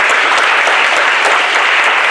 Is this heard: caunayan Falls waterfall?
no